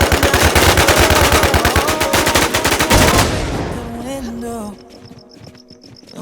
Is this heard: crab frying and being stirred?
no